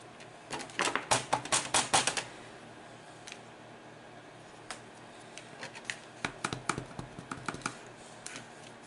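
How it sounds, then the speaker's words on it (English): Rubber stamp pressed repeatedly onto paper to print stars, a quick burst of sharp taps followed by a pause and then a second scattered run of lighter taps, close and fairly quiet. "we're just going to randomly stamp these stars all the way up"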